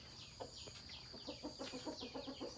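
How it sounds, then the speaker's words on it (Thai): Free-ranging chickens in a garden during the rainy season give soft, repeated clucks at an uneven, quickening rhythm, fairly quiet and close with no voices. "ไก่มันปล่อยอยู่ที่สวนครับ"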